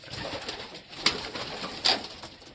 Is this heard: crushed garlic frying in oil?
no